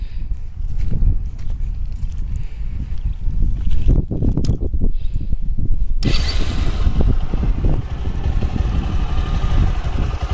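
Bajaj Discover 100 DTS-i motorcycle, its tappet valve clearance freshly set, cranks and catches, then runs with a steady, loud, continuous engine drone close to the microphone.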